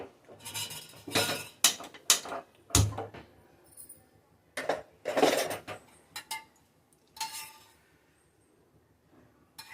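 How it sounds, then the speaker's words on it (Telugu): A pan set on a lit stove with oil poured in, heard as several close metallic clanks and clatters in irregular bursts, separated by quiet gaps. "ఇప్పుడు స్టవ్ వెలిగించి తగినంత నూనె పోసుకుందాం"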